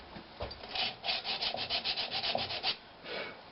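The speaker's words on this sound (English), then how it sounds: "I've got most of my sanding marks out." Sandpaper rubs back and forth in quick, steady strokes over a natural-edged oak bowl at 100 grit, a soft, close, rasping scrape with a short break before a final stroke.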